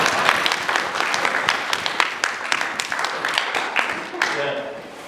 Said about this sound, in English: That probably should be a clap.